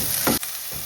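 Steady hiss of crab sizzling in a hot pan for Sri Lankan-style crab varai, with a brief stirring scrape partway through; continuous and close, no voices.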